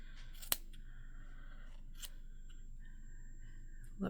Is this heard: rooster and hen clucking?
no